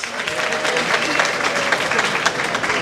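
A crowd at a charity auction event claps steadily throughout, a dense continuous round of applause heard from within the audience.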